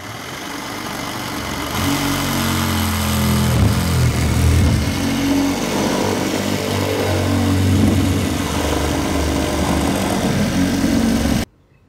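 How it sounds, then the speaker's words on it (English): A reciprocating saw cuts through the plastic of an IBC tote, a loud, steady buzzing saw noise close by that runs almost without a break for eleven seconds and stops abruptly at the end. "we're gonna go ahead and make our cut. My tool of choice for this particular task is a sawzall."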